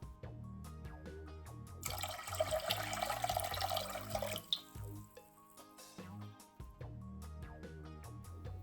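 Two cups of water being poured for a jalapeño pickling fluid make a soft burst of splashing and trickling amid faint clinks and background music, quiet and close.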